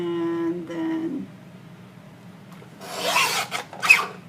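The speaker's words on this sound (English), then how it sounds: "I love the sound of the guillotine cutter" A guillotine paper cutter blade slicing through gift bag paper, heard after a brief hum as a couple of short, close rasping swipes near the end.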